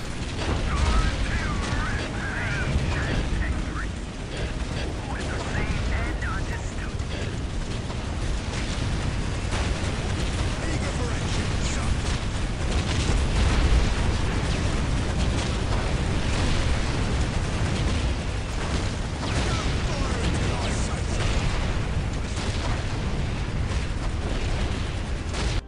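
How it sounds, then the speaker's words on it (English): Demolisher cannon blasts and battle explosions in the Dawn of War Ultimate Apocalypse mod, a Tyranid infestation match, forming a dense, continuous roar of booms and bursts at steady loudness across the whole stretch, with talk mixed in. "On our favour, we do have demolisher cannons."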